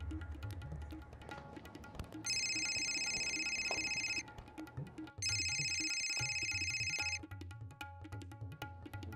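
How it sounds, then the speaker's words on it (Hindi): A telephone rings twice in long electronic bursts, fairly close, with a quiet room hum between rings. "ऐसा करो, तुम उसे फोन लगाओ"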